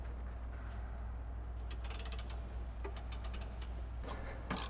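A ratchet on a long extension with an 18 mm socket works a sway bar mount bolt on a Ford Mustang S550, two quick bursts of rapid clicking over a low steady hum, close and fairly faint.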